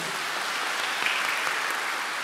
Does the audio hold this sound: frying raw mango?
no